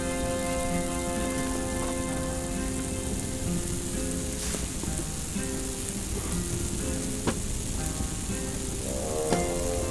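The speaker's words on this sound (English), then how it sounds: "That sizzle sounds really good." Food sizzles steadily while cooking in the video game Return to Moria, a constant crackling hiss like frying under a faint musical hum, with a few sharper pops standing out.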